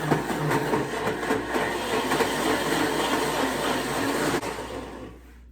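A Ninja Creami ice cream maker churns a frozen mix with a loud, steady grinding whir that runs unbroken, then drops off sharply and dies away at the end.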